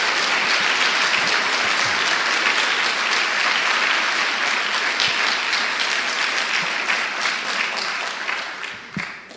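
A congregation at a church service applauds, a loud, sustained roar of many clapping hands that holds steady for several seconds and then tapers off.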